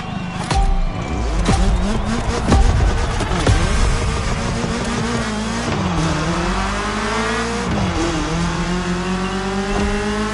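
A BMW M3 in the video game The Crew, its engine revving loudly and close with rising and falling pitch as it shifts gears, joined by occasional tire noise.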